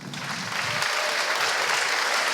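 A conference audience at an ocean-conservation round-table forum breaks into warm applause for the guests, a dense, steady wash of clapping that swells quickly and stays full throughout.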